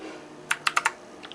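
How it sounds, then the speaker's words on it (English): A Redragon K551 full-size mechanical gaming keyboard with red backlighting and a numpad gives four sharp, close key clicks in quick succession, followed by a couple of faint lighter taps, with no voices. "It's a full mechanical gaming keyboard."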